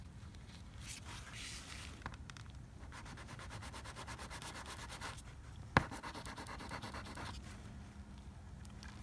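14K gold rubbed against a test spot, a soft steady scraping and rubbing texture, quiet and close, with one brief sharp click partway through.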